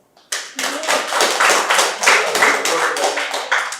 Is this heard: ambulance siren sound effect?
no